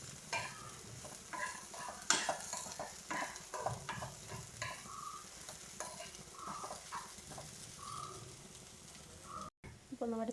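Prawns fry in a pan with turmeric, sizzling under frequent stirring, with repeated scrapes and clinks of a spatula against the pan; a faint voice may sit under the cooking noise.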